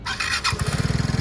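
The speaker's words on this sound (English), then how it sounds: "Let the bike go through the ignition sequence. Press the starting button." A scooter engine cranks on the electric start button and catches, settling straight into a steady, rapid idle putter, loud and close with no talk.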